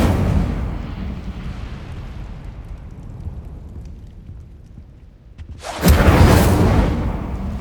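A fire spell cast in Hogwarts Legacy: a low rumbling bed gives way near the end to a sudden loud whooshing burst of flame that roars for a couple of seconds before easing off.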